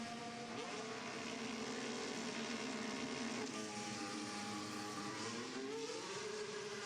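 A Mercedes Formula 1 car at the 2023 Hungarian Grand Prix practice holds its engine at high revs in first gear, then launches, a continuous loud engine roar whose pitch sweeps and climbs from start to finish.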